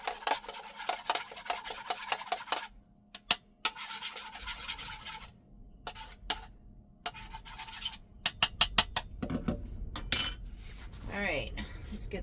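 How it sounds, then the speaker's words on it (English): Stirring eggs in a pot at an off-grid campsite: a spoon scrapes and clinks against the metal in irregular bursts, with pauses between, followed by several sharper taps and rattles near the end. "I'm just mixing up because I will put the scrambled egg in there also."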